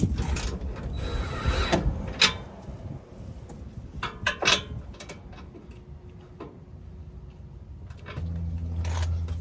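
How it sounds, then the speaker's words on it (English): A ratchet cranks down the running board mounting bolts on a 2007-era Jeep Wrangler JKU, giving a run of irregular close clicks and mechanical rattles over low background rumble. "Then you're going to go back through and just crank all this other hardware down."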